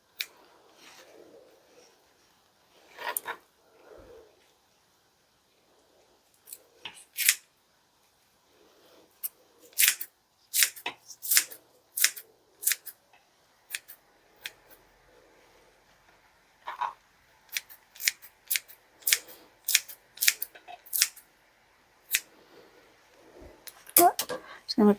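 Kitchen scissors snip through green onions in a series of crisp, irregular cuts, bunched in quick runs with short pauses, while a voice talks at moments between them.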